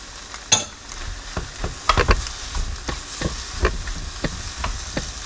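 Shrimp and mushrooms hit a hot pan of fried rice, giving a steady close sizzle broken by sharp scraping stirs and clatters of the spatula at irregular intervals, with no talking.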